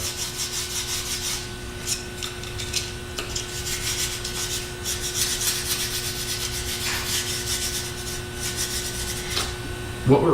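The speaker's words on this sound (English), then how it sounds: "works really well for just sanding this channel out and getting it open to accept the torque rod." Continuous rasping rub of sanding out a channel in wood for a torque rod, close and moderately loud, over a steady background hum, with a knock near the end.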